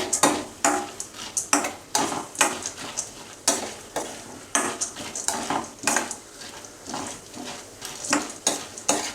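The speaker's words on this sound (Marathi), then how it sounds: "आपण फक्त 1 मिनिट असं भाजून घ्यायचं आहे." A metal spoon scrapes and clatters in rhythmic strokes against a pan as poha flakes are stirred and dry-roasted, each stroke a bright, crisp scrape repeating steadily at close range, with soft rustling of the flakes between strokes.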